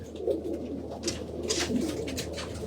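A big, strong racing pigeon coos softly while being handled and inspected up close, low rolling coos with faint rustling, no talk over it.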